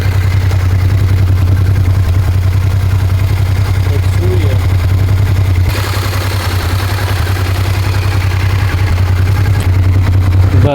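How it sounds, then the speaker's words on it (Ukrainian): A Honda XL 650 V Transalp touring enduro motorcycle's V-twin engine idling close by, a steady low throbbing rumble throughout with a brief shift in tone midway, while someone talks over it. "ну дуже так працює приємно двигунчик, зараз запущу"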